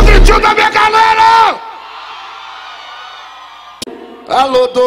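A crowd at a live hip hop concert yells and cheers loudly with music, then drops to a steady hum of voices before the loud noise returns near the end.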